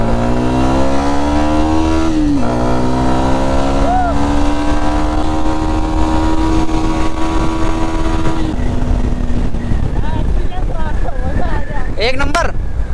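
A motorcycle races at high speed, its engine holding a steady droning whine under rushing wind, with one shift in pitch early on. Voices break in toward the end.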